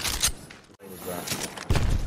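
Bursts of enemy gunfire in Apex Legends, loud rattling volleys at the start and again near the end with a brief gap between them, mixed with talk.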